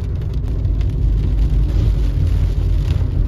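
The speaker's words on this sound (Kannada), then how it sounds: "ಮಳೆ ಅಂತೂ ನಿಜವಾಗ್ಲೂ ಎಕ್ಸ್ಪೆಕ್ಟ್ ಮಾಡಲಿಲ್ಲ ಇದು ಇಷ್ಟೊಂದು ಜೋರಾಗಿ" Heavy summer rain pours down steadily at Masinagudi near Ooty, a loud, dense, unbroken roar that fills the whole scene with no voices.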